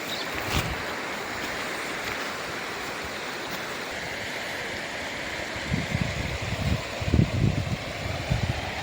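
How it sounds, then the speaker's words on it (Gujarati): A river rushes down from the hills with a steady, broad watery roar. Heavier low surges and splashes build up near the end. "ડુંગરથી દર્દી ઘાટ ઉતરતી હરતી ફરતી આખડતી આવે ઉછળતી જરાને ડરતી જાય ગરજતી જોરાળી એવી નદી નખરાડા કરતી આવી જાય છે"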